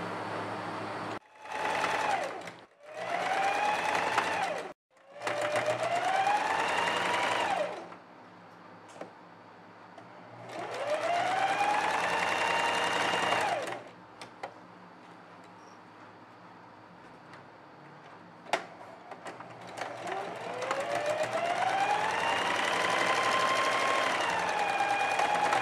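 A sewing machine stitches the side seams of a children's outfit in several bursts, each whirring run rising in speed and pitch, separated by quiet pauses with small clicks and handling noises.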